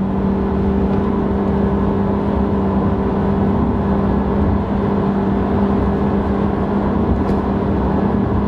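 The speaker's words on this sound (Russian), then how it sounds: "Вот прям газ в пол." A Nissan Sentra accelerates at full throttle in winter, heard as a loud, steady engine drone with a sustained hum from inside the cabin, no talking.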